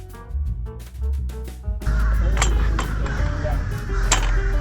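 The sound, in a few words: crows cawing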